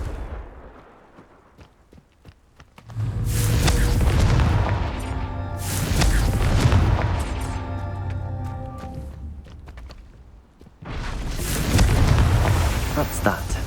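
Confringo fire spell explosions in the Hogwarts Legacy video game, several booming blasts with rumbling crackling tails rising and fading over the clip.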